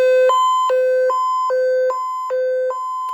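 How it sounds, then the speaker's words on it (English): Alert test siren from a First Alert WX167 weather radio: a loud, piercing electronic tone that switches steadily between two pitches about twice a second, with no voices. "Gotta love that siren."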